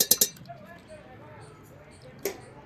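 A spoon clinks against dishes: three quick, bright taps, then a single clink a couple of seconds later, with quiet talking underneath.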